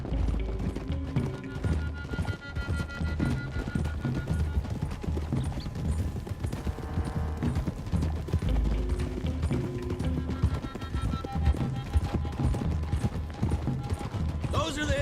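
Horses' hooves clip-clop steadily in Red Dead Redemption 2 as a group rides along a road, rhythmic and continuous with scattered game sounds and music beneath, no speech heard.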